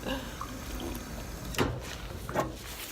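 Water running from a tap in a steady, close splashing flow, with a couple of brief gulping or splash accents near the end.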